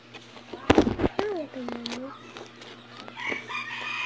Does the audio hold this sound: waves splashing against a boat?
no